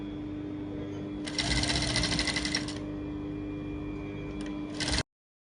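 Sewing machine stitching a crinoline ruffle for a baby girl's dress, a steady fast mechanical whir for about a second and a half, then a short second burst, over a constant low hum.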